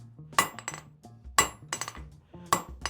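A blacksmith's hammer strikes hot steel on an anvil while drawing out a taper: three hard ringing blows about a second apart, each followed by lighter rebound taps, close and clear with no talking.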